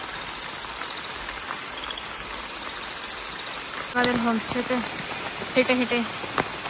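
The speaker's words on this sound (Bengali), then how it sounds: "এরই মাঝে নামলো ঝমঝমিয়ে বৃষ্টি" Heavy monsoon rain pours as a steady, dense hiss on a quiet mountain road near a village homestay in Kalimpong, with a person talking over it toward the end.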